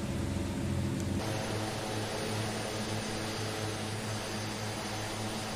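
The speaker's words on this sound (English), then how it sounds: "these F-18 pilots just doing nothing but zooming around and zooming around and zooming around." F-18 jets zoom around, a loud, constant broadband roar that shifts in tone about a second in, then holds steady and distant-feeling without breaks.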